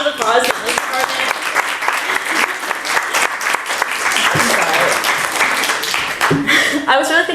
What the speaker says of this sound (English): Can we give a round of applause to the English department?